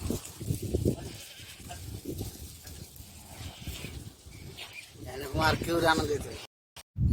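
Goats bleat at a goat farm in Saudi Arabia during milking, giving a few wavering cries toward the end. People talk over the farm noise through most of the clip.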